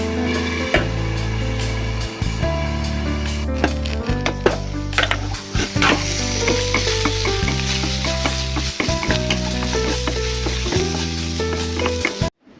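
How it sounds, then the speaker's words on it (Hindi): Jackfruit curry vegetables cooking in mustard oil in a kadai give off a continuous sizzling hiss, partly buried under loud rhythmic background music. "मैं कढ़ाई पर सरसों ऑयल देने के बाद थोड़ा नमक हल्दी देने के बाद वो सब्जी डाल दिए थे"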